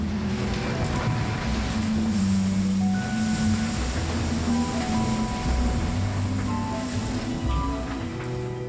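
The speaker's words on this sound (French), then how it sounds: "un sifflement de vent fort" Strong wind roars over surging ocean waves aboard a racing sailboat at sea, with faint whistling tones drifting above a continuous rushing noise.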